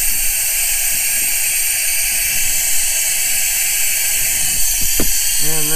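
An oil extraction pump pulls engine oil up a tube from a Mercruiser 3.0 in a 2015 Bayliner, giving a steady, loud hiss with a brief rising chirp near the end.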